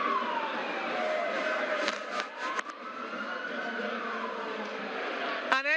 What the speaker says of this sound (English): those sirens wailing will give way to the distinctive bagpipes